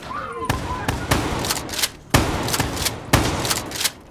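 KRM-262 shotgun firing in Call of Duty Black Ops 3, with loud, close blasts in clusters, each followed by pump-action clacks and ringing tails, in an uneven rhythm of about eight shots.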